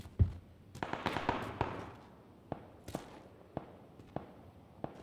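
Sharp, sparse gunshots from a video game firefight ring out at irregular intervals, about eight cracks spread over several seconds, moderately distant and alone with no talk.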